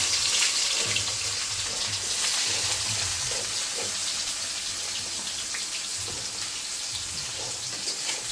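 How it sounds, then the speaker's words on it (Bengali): Chopped onion frying with a bay leaf in mustard oil produces a loud, constant hissing sizzle that holds steady throughout, with faint clatter underneath. "পেঁয়াজটা একটু লাল লাল করে ভেজে নেব"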